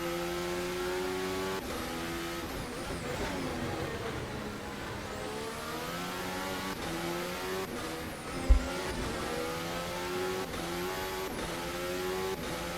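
Formula 1 race car engine in a racing video game at the Australian Grand Prix, a loud continuous high-pitched whine rising and falling through gear changes and braking, with a brief thump midway.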